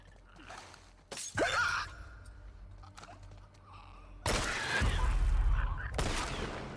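Gunfire in The Last of Us Part II: a sharp shot near the start, then a longer loud burst of blasts and crashing noise later, with groans and breathy voice sounds between them.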